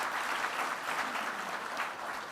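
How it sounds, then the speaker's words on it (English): Studio audience claps for the youngest participant, a 20-year-old, at a youth parliament politics debate. The applause is steady and even, fairly faint and distant, and lasts a couple of seconds with no voices. "Let's give him a big round of applause because he's the youngest of our participants today."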